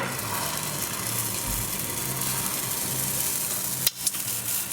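Protein pancake batter frying in coconut oil in a pan: steady, close hissing sizzle throughout, with a couple of brief knocks of a utensil near the end, no talk.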